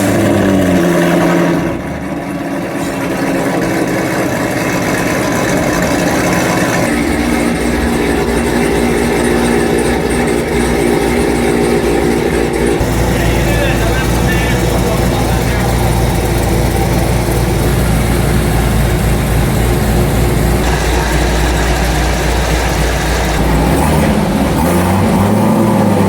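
A loud, deep Corsa exhaust on a modified Chevrolet C7 Corvette Z06 drones steadily nearby, a continuous heavy rumble that shifts in tone a couple of times.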